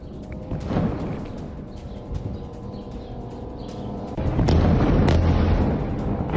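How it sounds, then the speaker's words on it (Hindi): Explosions near a shelter camp in Rafa, Gaza sound as deep, rumbling booms, one around the one-second mark and a heavier, sustained blast rolling in past four seconds, set against a constant low roar. "शेल्टर कैंप के नजदीक हुआ धमाका"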